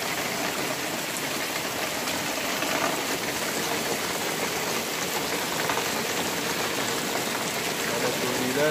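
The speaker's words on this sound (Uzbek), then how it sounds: "Bu yoqlardan suv oqyapti." Water flowing after heavy rain in Namangan, a steady, dense rushing hiss like runoff or pouring rain that stays even and unbroken throughout, fairly close.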